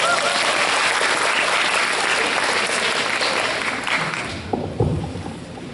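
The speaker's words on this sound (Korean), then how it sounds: "개인적으로 크게 박수를 쳐주신 회장님 감사합니다" An audience at a school presentation applauds loudly for several seconds, then the clapping fades and a few scattered claps and thumps remain before it stops.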